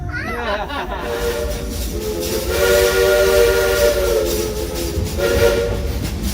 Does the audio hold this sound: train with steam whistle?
yes